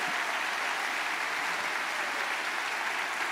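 A church congregation gives loud, steady applause in worship, a dense, even clapping that holds unbroken for a few seconds with no voices standing out.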